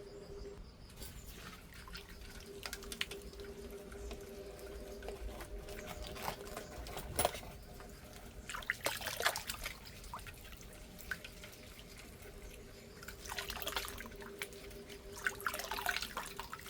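Soil is rinsed off the roots of a repotted plant under a faint trickle of running water with soft splashes and drips, quiet and steady, with a few brief louder rushes.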